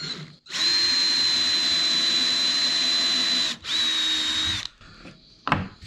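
A power drill whines loudly and steadily, pauses briefly, then runs again before stopping, followed by a few scraping and clattering noises, while drilling for puck lights in a Ford Transit van ceiling.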